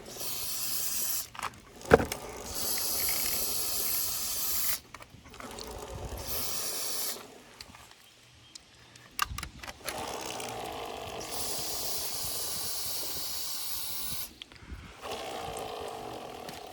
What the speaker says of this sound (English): Get some WD-40 on there and give her a good soak.